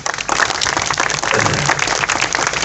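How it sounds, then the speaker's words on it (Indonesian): An audience claps steadily at an Indonesian cultural talk held at Sendang Tirto, as a guest speaker is welcomed to the stage. The applause is dense and sustained, with no voices over it. "tepuk tangan untuk beliau"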